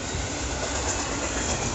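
A freight train hauling Swift containers rolls past at around 45 mph with a steady, loud, broadband roar of wheels and cars, continuous and close, with no voices.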